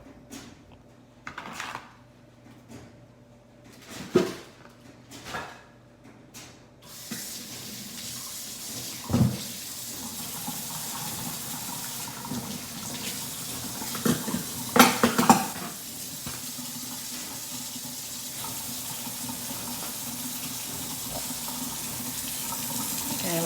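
Tap water runs steadily over Dungeness crabs in a kitchen sink, with scattered knocks and clatter of shells being handled; after a quieter start of a few taps, the flow becomes continuous and close.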